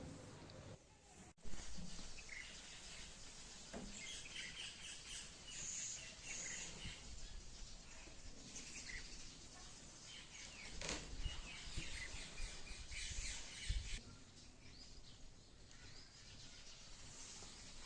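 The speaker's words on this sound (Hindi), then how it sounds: "सुबह सुबह पक्षी बोल रहे हैं जैसे कोई मधुर गीत गा रहे हो" Village birds chirp and sing through a morning scene, a dense chorus of faint tweets spread over a steady outdoor background with occasional louder notes.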